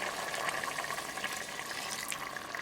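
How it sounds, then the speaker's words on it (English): Water poured into a cooking pot of black-eyed peas, a steady close rushing splash that runs continuously for a couple of seconds without any voices. "Add 2 cups water"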